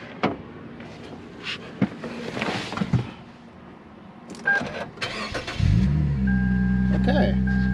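A Lexus IS250 with a weak battery cranks and starts. Clicks and handling noises come first, then the engine catches and settles into a loud, steady idle toward the end, with brief talk heard before it.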